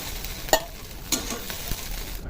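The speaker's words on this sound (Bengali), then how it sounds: "দিয়ে ডিমটাকে একটু ঝুড়ি ঝুড়ি করে ভেজে নেব" Beaten eggs scramble and fry in a pan: a steady soft sizzle with a few sharp spatula scrapes and taps, fairly quiet and close, with no voices.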